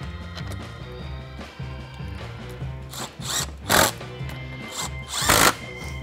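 Power tool driving 10 mm bolts during a pulley install on a 2020-on Ford GT500, whirring in short repeated bursts with louder surges near the end, close by.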